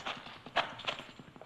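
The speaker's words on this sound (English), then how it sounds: "Horses, they're riding off." Horses gallop away across a dry gulch at night in a Wild Bill Hickok western, a quick run of clip-clop hoofbeats that stays fairly faint and steady, with no voices over it.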